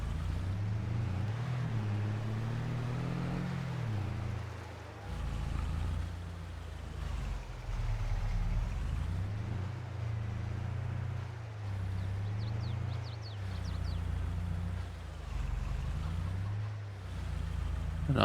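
A truck engine in the Farming Simulator 22 game drones steadily at low pitch throughout, its tone rising and falling slightly as it drives, fairly quiet with no talking.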